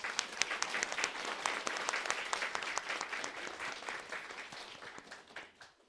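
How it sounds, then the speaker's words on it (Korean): A church congregation claps in welcome, a dense burst of sharp, crisp claps that tapers off toward the end, close and lively with no talk over it. "우리 환영의 박수"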